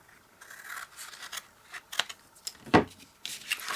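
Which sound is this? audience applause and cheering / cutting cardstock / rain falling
cutting cardstock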